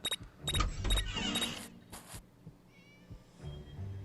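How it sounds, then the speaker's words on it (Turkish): A few short cat meows ring out in quick succession over a busy Scary Teacher 3D game soundtrack, followed by quieter electronic tones and clicks. "kedi sesi geliyor. Fark ettiniz mi bir yerden?"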